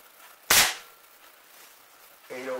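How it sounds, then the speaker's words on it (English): A PCP air rifle, charged to 2300 PSI, fires regular pellets: one sharp, loud crack followed by a short quiet stretch, then a faint tonal ring at the end. "I'm gonna take a couple of shots with regular pellets in it and see what happens."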